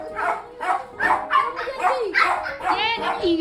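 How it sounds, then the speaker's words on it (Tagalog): Several dogs bark and yip in quick bursts, fairly close, with a person talking over them. "ang ingay ng mga aso"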